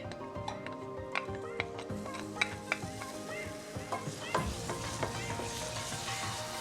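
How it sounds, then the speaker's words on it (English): Garlic going into hot oil in a pan while cooking stewed eggplant and pumpkin rice, giving a steady close sizzle with scattered sharp crackles and taps from stirring throughout. "At this point, I'm going to go in with my garlic,"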